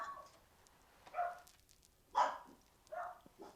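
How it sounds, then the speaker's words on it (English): Several dogs bark in a scattered sequence of short, mid-loud yaps, three or four separate bursts spaced about a second apart in a quiet indoor room. "Can you hear all the barking?"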